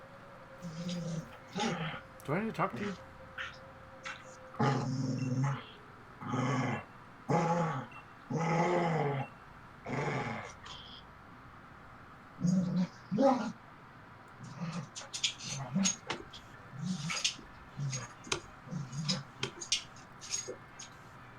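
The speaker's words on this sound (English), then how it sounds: "The reason he's growling like that is because Ian's playing tug of war with them with his favorite toy." A dog named Wolf growling while playing tug of war with his favorite toy, a run of loud, close growling bursts with short pauses between them, and someone talks briefly.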